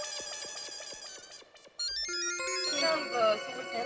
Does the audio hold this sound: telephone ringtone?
yes